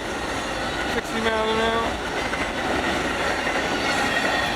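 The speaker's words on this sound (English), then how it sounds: "The auto train here in Seville, Florida" An Amtrak Auto Train rolls past at speed in Seville, Florida, a steady loud rumble of rail cars with a brief tonal squeal, while someone briefly speaks over it.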